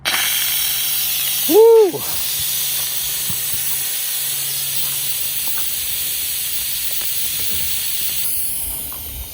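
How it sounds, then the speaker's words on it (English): A sharp jet of steam vents from a cooker, a steady loud hiss that runs for several seconds, with one brief excited voice exclaiming near the start. "I got this jet of steam that's about to shoot out of here."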